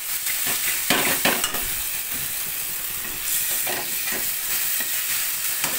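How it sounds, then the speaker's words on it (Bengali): Meat masala spices are sautéed in a hot pan, a continuous sizzle broken by sharp scraping stirs of a spatula, close and loud with no voices. "এখানে মাংসের মশলা কষানো হচ্ছে"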